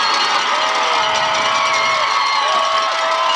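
A high school football crowd at the Arcola vs Camp Point game, cheering and shouting in a steady wash of noise that carries on through the whole moment, heard at a moderate distance.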